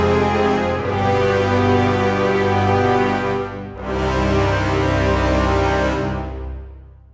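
Full orchestral music from the BBO Andromeda sample library, played through a classical surround-to-stereo mix that adds the high surround microphones to the Decca tree. Two loud, sustained, rich chords swell and fade with no talk.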